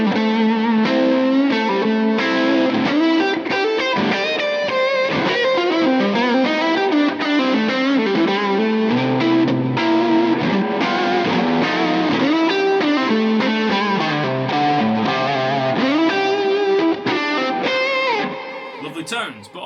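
A Les Paul electric guitar with a P90 pickup plays at full gain, thick distorted chords and riffs ringing continuously and loud with no talking over it.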